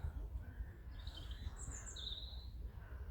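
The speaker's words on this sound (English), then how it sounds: "And I love the bird song." Birds singing in Crystal Palace Park, London: a few faint, thin chirps and short warbling calls heard at a distance over a steady low rumble of outdoor background noise.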